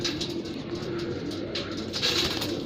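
Pure Mirab pigeons keep up a continuous low cooing drone, several birds overlapping at moderate loudness, with occasional brighter flutters or chirps and no talking.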